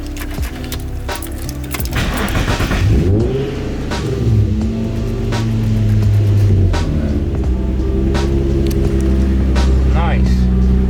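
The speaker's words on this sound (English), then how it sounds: "Go ahead and start the car up real quick." A Nissan 350Z engine runs close by and revs loudly, its pitch rising and falling repeatedly while muffled voices talk in the background.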